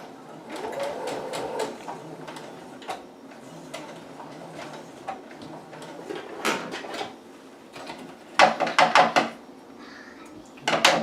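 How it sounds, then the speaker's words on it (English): A sewing machine stitches over a fabric seam on a cosplay utility belt pouch in short bursts of rapid clicking and whirring, separated by pauses and handling clatter. "We sew right over the seam that we just created."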